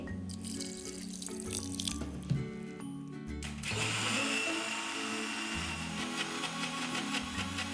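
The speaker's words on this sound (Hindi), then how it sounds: "थोड़ा सा पानी डालेंगे।" Water splashes and trickles steadily into a mixer grinder jar of rice batter for idli, following a clattering mechanical rattle and a few knocks.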